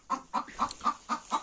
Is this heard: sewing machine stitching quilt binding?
no